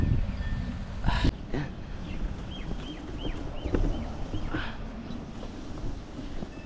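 Strong wind roars and buffets the microphone throughout, with rustling and gusty bursts and a loud thump early on, as crops are blown over.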